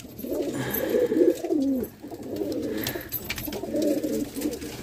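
Soft pigeon cooing repeats in low, throaty rolling phrases, close by and continuous, with faint background hiss.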